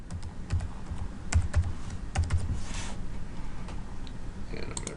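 A computer keyboard clicks as an email address and password are typed, giving soft irregular keystrokes in short bursts, nearby and fairly quiet.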